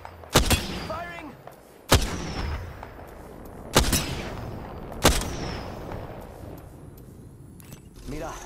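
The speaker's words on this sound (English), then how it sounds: "Firing!" Gunfire in the video game Apex Legends: four sharp, loud shots at irregular intervals, each ringing out with a short decaying tail over a low background rumble.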